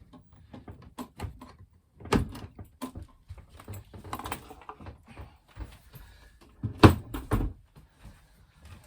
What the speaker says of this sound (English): I think I'll take that door off